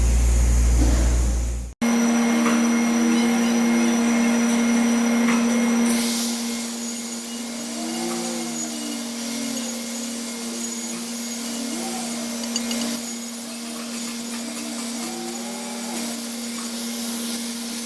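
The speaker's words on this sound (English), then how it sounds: "now I can just shape that to fit with the grinder" An angle grinder shapes a cut steel pipe for a branch fitting, running loud and steady after a brief cutoff, with a constant high whine and a broad grinding hiss.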